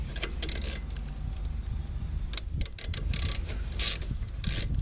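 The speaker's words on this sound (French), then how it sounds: "on n'oublie pas de bloquer les deux boulons avec la clé de 13" A ratchet wrench with a 13 mm socket tightens brake caliper bolts on a Citroën C25, Peugeot J5 or Fiat Ducato van. Rapid clicking bursts ride over a steady mechanical whir at close range.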